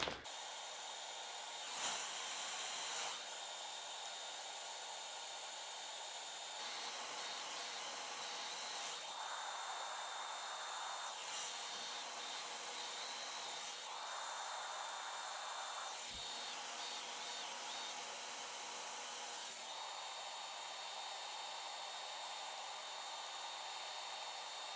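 A blow dryer run on its cool setting whirs in several separate bursts with quiet gaps between, a soft steady hiss each time, heard close with occasional small clicks.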